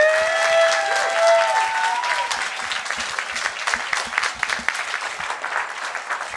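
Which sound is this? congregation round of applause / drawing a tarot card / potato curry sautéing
congregation round of applause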